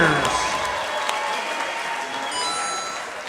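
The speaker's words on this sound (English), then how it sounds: "a big round of applause for both of these main event" Applause from the crowd at a fight event after a three-round main event bout. It is a dense patter of clapping that slowly fades, with an announcer talking over it.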